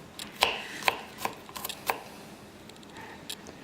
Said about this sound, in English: So we'll just chop this up.